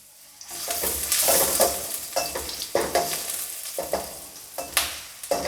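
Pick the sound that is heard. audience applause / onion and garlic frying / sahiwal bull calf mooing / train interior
onion and garlic frying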